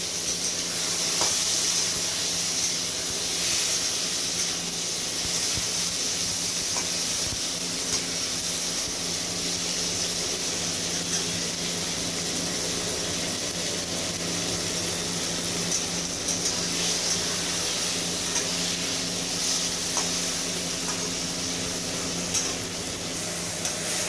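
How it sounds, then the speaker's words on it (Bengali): Chopped tomatoes fry with garlic in a pan, giving a steady, soft sizzle and hiss that runs evenly throughout without talk. "টমেটোটা আমার ভাজা হয়ে এসছে।"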